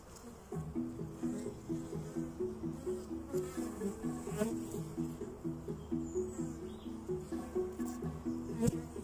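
Bees landing on spring garden flowers laden with pollen, a close, steady buzzing drone with pulsing wingbeat swells, continuous and fairly loud with no talking.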